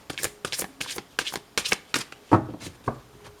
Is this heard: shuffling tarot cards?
yes